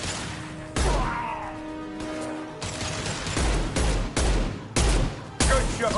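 Gunfire in a Mass Effect 2 firefight: loud bursts of rapid shots come in repeated volleys separated by brief pauses, with a short tonal hum early on.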